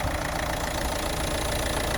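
A Renault Megane GT-Line petrol car idles with its hood open, giving a quiet, even, continuous engine hum with no voices or revving.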